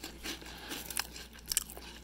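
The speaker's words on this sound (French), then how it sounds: "pour ceux qui détestent le bruit de mastication" A pet parrot chews cheese croquettes, giving a few soft, close crunches and two sharper bites near the middle, all faint against quiet room noise.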